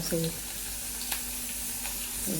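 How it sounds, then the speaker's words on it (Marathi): Garlic, chillies and cumin sizzle in hot oil for a tempering, giving a continuous close hiss with faint crackles. Brief voice fragments are heard at the start and end. "थोडं लसूण मिरच्या तळून घेते आता थोडं जिरे पण टाकते जिऱ्याची पण फोडणी देते"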